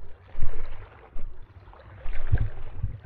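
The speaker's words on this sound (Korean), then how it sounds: "파도 소리가 아주 정겹게 들립니다" Sea waves wash against the rocky shore of an island, coming in irregular surges of splashing and gurgling water, close and fairly loud, with quieter gaps between swells.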